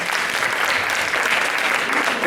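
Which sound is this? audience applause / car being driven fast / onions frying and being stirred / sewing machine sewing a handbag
audience applause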